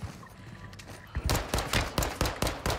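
Pistol shots in a video game ring out in a quick series of about eight sharp, close cracks, spaced evenly after a quieter opening second.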